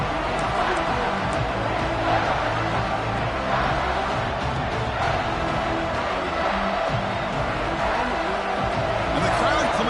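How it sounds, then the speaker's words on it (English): Stadium crowd noise from College Football 26, a steady loud roar of cheering fans swelling as the defense holds in the red zone, with a commentator talking over it throughout. "And the crowd coming to life here trying to help this defense down in the red zone."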